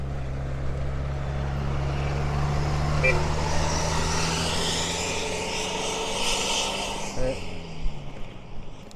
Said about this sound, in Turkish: Arabanın gürültüsünü duyuyorum.